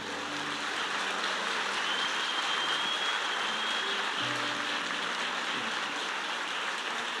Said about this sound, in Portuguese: Uma salva de palmas ao Senhor.